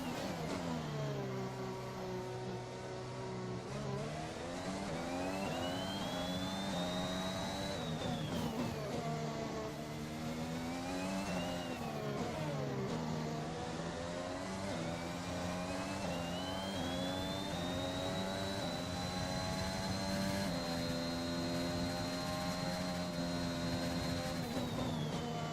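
F1 2021 racing game car leaving the pit lane, a loud, continuous engine whine rising and falling through gear changes, sweeping up in pitch repeatedly over about twenty-five seconds with no talk.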